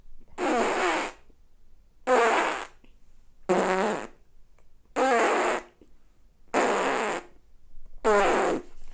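Six rhythmic bursts of puffy, buzzing lip-and-cheek air sounds, didgeridoo cheek-puffing practice, evenly spaced about every second and a half, close and fairly loud, with no talking.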